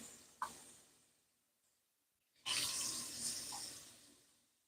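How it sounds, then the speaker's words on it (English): Tap water runs into a sink to rinse tomatoes. After a faint click and a quiet pause, the faucet opens to a steady, close splashing flow. "Let's rinse them one more time."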